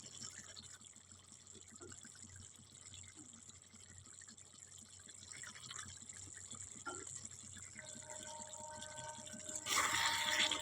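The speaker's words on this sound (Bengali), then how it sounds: "এই সময় ধনে পাতাটা ধুয়ে দিয়ে দিলাম।" Coriander leaves rinsed under a running tap while making egg curry: a steady, moderately loud wash of flowing water that surges louder near the end, with no talking.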